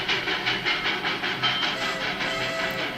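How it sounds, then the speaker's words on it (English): A train sound effect from a toddler app plays: a rhythmic steam-engine chuffing with hiss, pulsing evenly and steadily at moderate volume, with no voices over it. "This is the sound a train makes."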